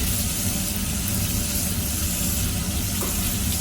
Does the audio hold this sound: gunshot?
no